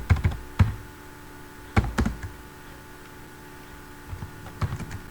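An address is typed on a computer keyboard in a few short bursts of clicking keystrokes separated by pauses, close and moderately quiet over faint room hum.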